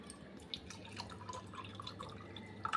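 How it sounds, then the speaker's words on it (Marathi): Water poured into a strawberry drink, a faint trickle with light dripping splashes, fairly quiet and without speech. "आता याच्यामध्ये आपल्याला पाणी घालायचं आहे"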